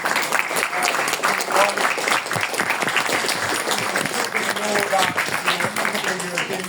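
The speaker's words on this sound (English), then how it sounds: "I want to give Mark and Cass a big round of applause" A crowd at a TFNation Manchester convention panel claps loudly and steadily for the Blokees panelists, with dense applause filling the whole stretch and voices mixed in.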